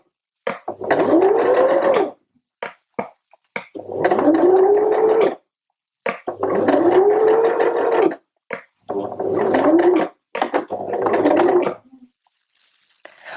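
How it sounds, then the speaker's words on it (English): Sewing machine stitching a sleeve seam with a French seam, running in five bursts of about two seconds each with short pauses between, close and loud, no talking. "I'm going to work my way all the way back round to the start, where I'm going to backstitch to fasten the sewing again."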